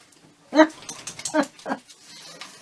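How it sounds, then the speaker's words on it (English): A pet dog barks loudly at the postman arriving, giving a few sharp, close barks in short bursts with pauses between, while a person's voice is heard around them. "you've never heard him bark so loud as when the postman comes"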